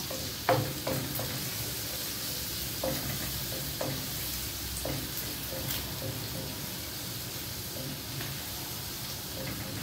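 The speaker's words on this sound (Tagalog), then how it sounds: "Siyempre, igigisa nyo muna." Chopped garlic sautéing in hot cooking oil in a pan: a steady, close sizzle and hiss with occasional stirring clatter, no talking.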